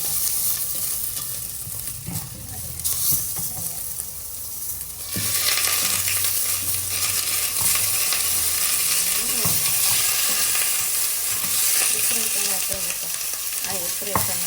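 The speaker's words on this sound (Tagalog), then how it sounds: "Tapos, i-prito natin yung oxtail dito guys." Oxtail frying in a pan, a steady broadband sizzle with stirring scrapes that jumps louder about five seconds in, then keeps crackling close and constant with no talk.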